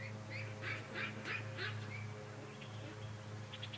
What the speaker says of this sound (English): It's so strange now I can see the ducks at the creek.